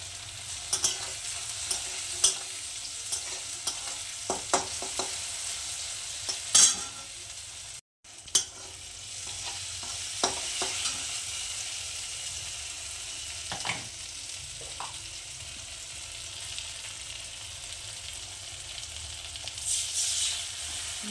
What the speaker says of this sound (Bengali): এটা একটুখানি ভেজে নিচ্ছি